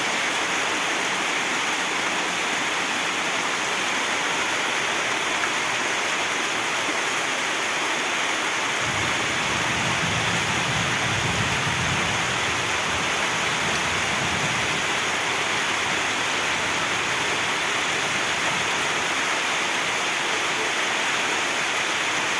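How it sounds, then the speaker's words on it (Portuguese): Heavy rain pours down in a dense, loud, continuous hiss that stays steady for the whole stretch, with no talking. "Quando cai chuva assim todo mundo se anima."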